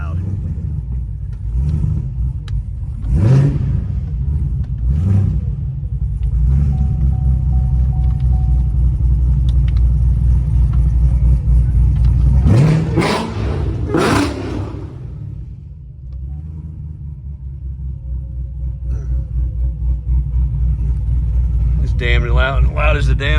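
A 2024 Chevrolet Yenko Stage 3 Camaro with a 427 V8 and six-speed, rated around 1500 hp, idles with a deep, loud rumble close by and flares into several sharp revs, the loudest pair coming about halfway through, with a voice talking at times.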